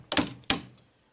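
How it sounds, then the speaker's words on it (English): Two sharp metallic taps of a steel engineer's rule against stainless steel car trim, used to pry it loose on an old Ford wagon, close and crisp with a short decay and no speech. "I'm using an engineer's rule to put against there and give it a little tap to release this trim"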